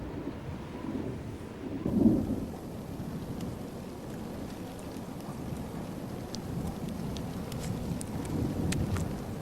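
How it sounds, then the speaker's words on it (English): Late summer thunderstorm in the high mountain country, with steady rain hissing over a low, rumbling roll of thunder that swells briefly and then keeps grumbling in the distance. "Late summer storms are lashing the high country."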